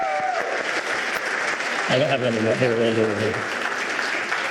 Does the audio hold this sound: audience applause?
yes